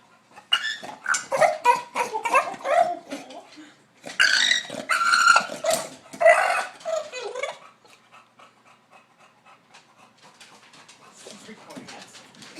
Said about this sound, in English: So he'll bark, and then his face is like through the gate like this, and he's trying to bark too